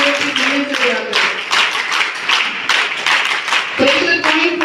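An audience at an International Yoga Day event claps in bursts of applause for the guests, mixed with a voice and tonal background sound.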